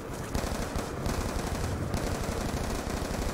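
Sustained MTAR assault rifle fire in Call of Duty Zombies on the Tranzit map, a loud, dense burst running the whole time with no pauses.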